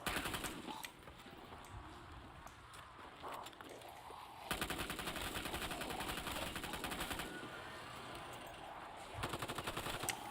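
Rapid automatic gunfire from weapons in Black Ops 3 Zombies with the Cold War mod, loud sustained bursts of machine-gun fire with brief pauses between strings, over game ambience.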